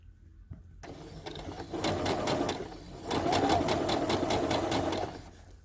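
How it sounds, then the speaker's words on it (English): Sewing machine stitching tulle ruffles runs in two bursts of steady rapid needle chatter, close and moderately loud, with a short pause between them and no talking. "So I'm going to sew until I get 8 inches long."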